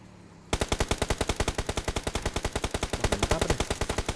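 Rapid automatic gunfire in the battle royale game PUBG, a loud sustained burst of evenly spaced shots that starts abruptly after a quiet moment and continues without pause to the end.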